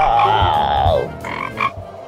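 A person's voice imitates a frog, giving a drawn-out falling croak followed by two short raspy croaks.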